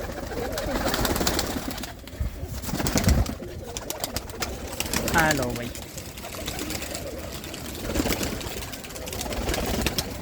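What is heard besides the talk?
domestic pigeons cooing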